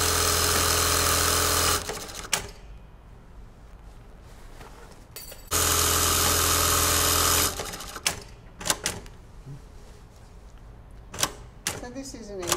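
A sewing machine stitches buttonholes on a blouse in two loud, steady whirring bursts, separated by quieter gaps with clicks and handling noises while people talk.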